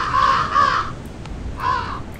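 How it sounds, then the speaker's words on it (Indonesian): Crows caw in the Siren Head horror video game, two quick harsh caws then a third after a pause, loud against a low ambient rumble. "Banyak sekali burung gagaknya."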